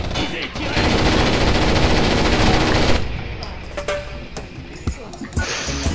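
Sustained automatic gunfire in the tactical shooter Rainbow Six Vegas 2: a dense, loud rattle lasting about two seconds, followed by scattered single shots and softer game sounds.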